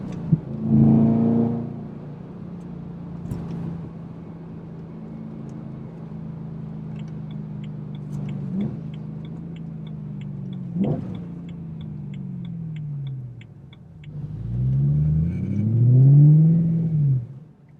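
A BMW E92 M3 with a Gintani tune and Mille Miglia exhaust revs hard and accelerates from 0 to 100 km/h, its deep exhaust roaring and rising in pitch through several gear changes, with a loud surge near the end.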